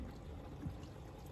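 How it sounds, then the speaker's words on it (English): Water poured into a cooking pot on a rainy roadside stop, a soft steady splashing pour heard close and fairly quiet, with no talking over it. "I'm gonna add just a little bit more water"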